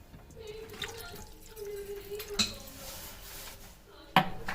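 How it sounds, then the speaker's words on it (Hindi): Water is poured from a vessel into a dish of jointed chicken pieces, a soft steady trickle broken by sharp clinks of cutlery and crockery, with faint talk underneath. "इसके बाद मैं इसके अंदर ये पानी डाल लूँगा"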